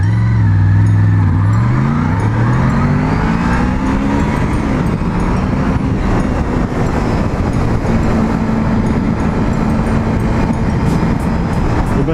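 Honda VFR 750 V4 motorcycle accelerating hard from a standstill, engine note rising steeply through the gears with brief dips at each shift, loud and close throughout with steady wind rush and no talking.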